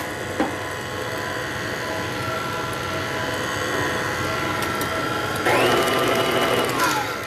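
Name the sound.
electric mixer mixing pumpkin dip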